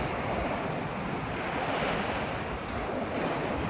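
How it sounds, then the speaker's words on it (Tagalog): Sea waves wash onto the shore on the island of Crete, a continuous broad hiss of surf with wind buffeting the microphone, steady and fairly close with no voices. "Ayan yung dagat."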